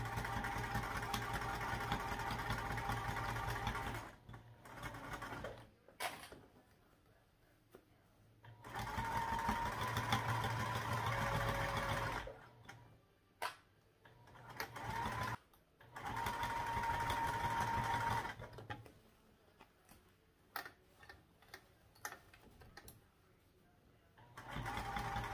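Sewing machine stitching backpack fabric along a zipper, running in several steady bursts of a few seconds each with short pauses between, close and fairly loud.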